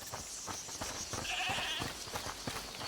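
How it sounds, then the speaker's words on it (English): A goat bleats in the video game A Plague Tale: Requiem, one drawn-out wavering bleat rising from the middle of a steady, murky ambient background, muffled as if inside a locked house. "Is that the goat he talked about?"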